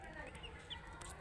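Young Brahma chickens under a heat lamp give faint, high cheeps and soft clucks, a few scattered calls close by over low background hum, with a brighter peep near the end.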